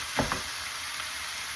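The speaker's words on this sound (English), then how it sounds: "I'm going to make sure that I break up the beef and brown it really, really well with my onions and garlic" Ground beef browning with onions and garlic in a pan, a steady bright sizzle with a couple of quick scraping stir sounds near the start.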